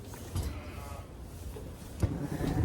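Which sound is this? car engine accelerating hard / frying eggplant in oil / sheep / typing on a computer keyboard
sheep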